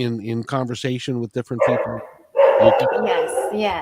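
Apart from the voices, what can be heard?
Australian Shepherd dog barking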